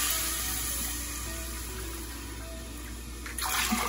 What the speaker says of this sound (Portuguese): Então agora a gente vem colocando a água.